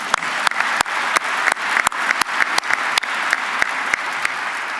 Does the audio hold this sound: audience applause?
yes